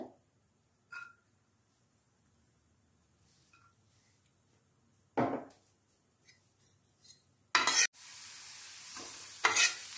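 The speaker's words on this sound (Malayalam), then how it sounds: "ഇപ്പോൾ വെളിച്ചെണ്ണ കുറച്ച് ഒഴിക്കുന്നുണ്ട് കടുകൊന്നും ഇടണില്ല ഇവിടെ ഞാൻ സവാള കുറച്ച് ചെറുതായിട്ട് അരിഞ്ഞത് ഇടുന്നുണ്ട്" Chopped onions hit hot coconut oil in a pan for a bitter gourd stir fry, preceded by near silence and a few scattered clinks and taps, then a loud hiss that settles into a steady sizzle.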